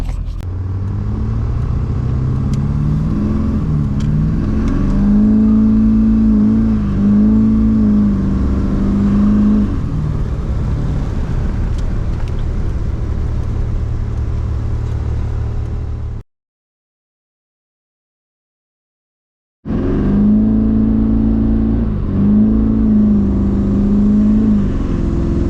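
A Duramax diesel pickup hauling a camper accelerates hard, its engine roaring loudly with rising and falling revs and a steady rumble, cut by a few seconds of silence before the heavy acceleration resumes.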